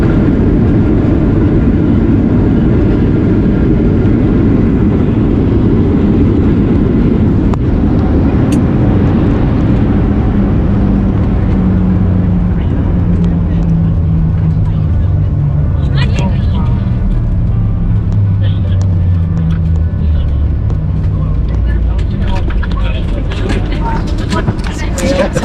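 A large passenger airliner taxis after landing, its jet engines a steady loud rumble with a slowly falling whine and a few faint cabin clicks and rattles near the end.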